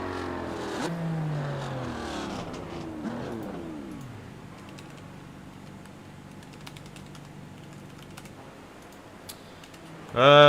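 Scattered clicks of computer keyboard typing come through during an iRacing sim racing session. Faint game car engine sounds fade in the background, and a loud engine burst erupts at the very end.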